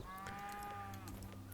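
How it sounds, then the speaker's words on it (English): A cow moos in a video game, a faint drawn-out tonal call over a low steady background hum. "Yeah, that's a fucking cow!"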